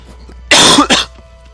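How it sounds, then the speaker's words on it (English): A single loud, close cough in two quick bursts, alone against a quiet room. "I have to cough."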